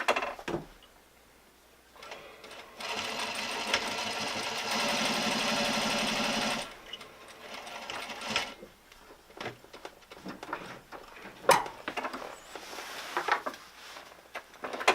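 An industrial straight stitch sewing machine sews a pleat in silk drapery with heavy satin thread, giving a steady, loud mechanical whir for several seconds, framed by quieter fabric handling and clicks before and after.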